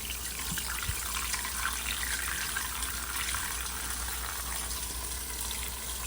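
Water runs from a tap in a steady soft gush, filling a pot of seasoned neck bones and potatoes, faint and continuous with no talking.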